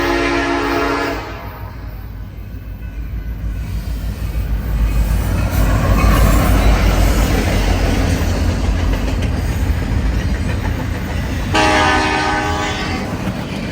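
A freight train rumbles past close by at night, a deep continuous roar of heavy wheels and cars, with a horn sounding briefly at the start and again near the end.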